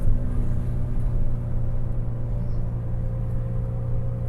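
A 2005 VW Beetle cruises at 55 mph, its cabin filled with a steady low road rumble and engine drone that holds even and unbroken throughout, with no one talking.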